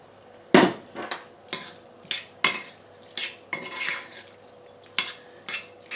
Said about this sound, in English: So I'm going to drain the pasta now and just mix it all together.